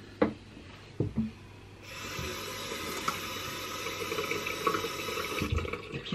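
Cold water from a running tap splashes at the sink as a face is washed during an evening skincare routine, a steady close rushing flow after a few soft knocks.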